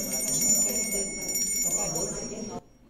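A bell rings out at a speed-dating event with Heidelberg city councillors, signalling tables to switch; its sustained ringing tone carries over a murmur of room chatter, then cuts off abruptly near the end.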